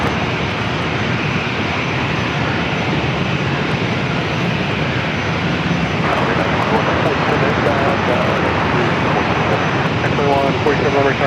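Two aircraft landing side by side at San Diego airport, a steady loud broadband engine roar that holds throughout, with a voice talking faintly underneath.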